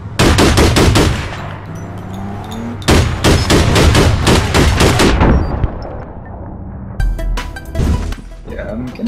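PMG automatic gunfire in the online shooter APB, loud close bursts of rapid shots in several volleys separated by brief pauses, with quieter scattered shots and game sounds near the end.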